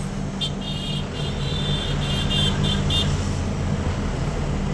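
Road traffic rolls past near the Thoppur railway gate, with a steady roar of cars and buses and a run of short horn toots early on, loud and continuous with no voices.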